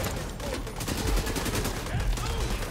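Turret gunfire in The Division 2 sounds as a rapid, sustained stream of loud, close automatic shots firing in a steady rhythm for nearly three seconds, with other battle noise mixed in.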